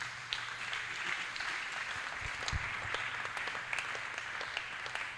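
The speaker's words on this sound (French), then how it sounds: "On acclame le Seigneur pour la parole." A church congregation applauds the Lord at a Bible seminar, a sustained crowd of hand claps at moderate distance, dense and continuous with sharper individual claps popping out above the wash.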